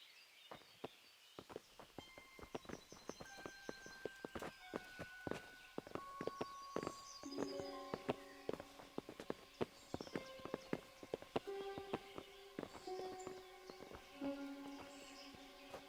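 Horses' hooves clip-clop in the medieval video game Kingdom Come: Deliverance, a busy run of many sharp, irregular knocks close by that keep going for about sixteen seconds, mixed with ringing tonal game sounds.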